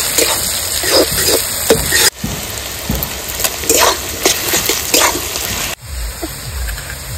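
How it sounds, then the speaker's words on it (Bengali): Chopped onions frying in a pan of oil for mutton curry, a loud continuous sizzle with crackling bursts and a couple of abrupt shifts in intensity, as if stirred, with no talking. "সুন্দর করে পেঁয়াজটা একটু ভেজে নেব।"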